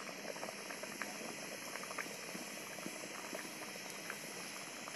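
Khichuri bubbles away in a pot on the stove with a steady, even boil, soft and close, with a faint hiss and small pops scattered through it and no voices.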